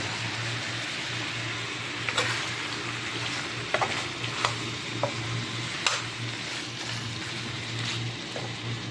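Goat trotters fry in a pan with a continuous loud sizzle, broken by sharp scraping and clicking stirs of a spatula at irregular moments, close up and without speech.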